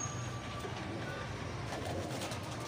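Pigeons cooing softly in a loft, low murmuring calls mixed into a constant noisy background hum.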